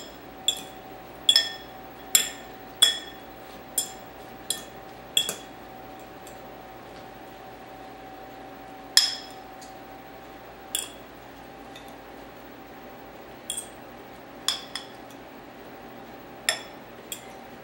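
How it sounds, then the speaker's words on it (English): Veggie bites being stirred in a bowl to coat them, giving a series of sharp clinks of a utensil against the bowl, spaced irregularly, close and fairly crisp over a quiet background. "Stir them up good so they get coated and mixed."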